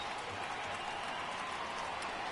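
Phillies fans at a baseball game cheering and applauding as the team tries to get the third out, a steady wash of distant crowd noise with no break.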